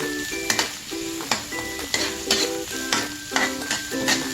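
Plenty of onions sauté in a pan for a canned squid dish, giving a steady sizzle while a utensil scrapes and stirs in a repeating rhythm. The sound is close and even, with no talking.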